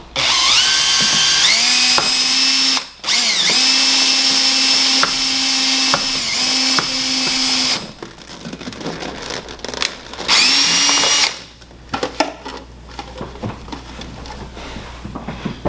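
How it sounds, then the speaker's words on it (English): Loud power drill whines in several bursts while drilling drainage holes in plastic Solo cups, revving up and winding down with short pauses between, then quieter scraping and clattering toward the end. "her husband Maya just drilled a hole with a drill bit down into the solo cups."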